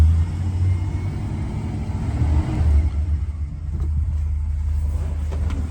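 A 1968 Dodge Polara hardtop with a 318 V8 idles steadily, a smooth, quiet low rumble that holds an even level throughout with no talking.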